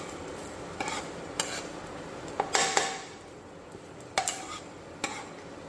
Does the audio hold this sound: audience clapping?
no